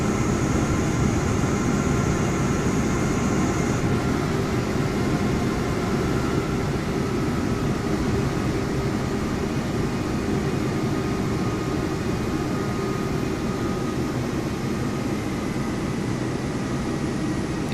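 A simulated aircraft taking off in Microsoft Flight Simulator 2024 gives a loud, steady engine roar with a low rumble, and a thin high whine fades out early on.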